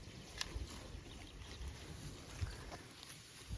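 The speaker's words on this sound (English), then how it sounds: "The wind is pretty atrocious tonight." Strong night wind blowing across open pasture near a calving herd, a steady broadband rush and buffeting against the microphone with occasional low thumps, no talking.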